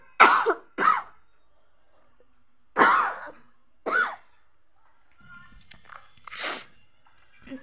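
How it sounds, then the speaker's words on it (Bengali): A dry, tickly cough brought on by cold weather, heard as about five close, sharp bursts spaced by quiet pauses, with faint throat sounds between them. "মানে কাশিটা আর বেশি খুসখুস কাশি হয়েছে।"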